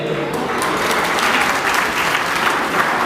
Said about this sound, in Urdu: آپ تالیوں سے اس کو استقبال بھی کریں گے اور اس کی حوصلہ افزائی کریں گے